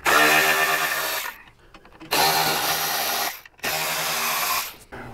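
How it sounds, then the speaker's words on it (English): Power tool driving out an air cleaner screw on a Harley Touring motorcycle, with three loud whirring bursts separated by short pauses, close up and alone. "So from here we want to get the air cleaner off, so we're going to remove this screw"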